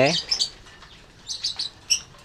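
Lovebird chicks in a nest box, well grown, give short high chirps and squeaks in small bursts with pauses between, close to the microphone.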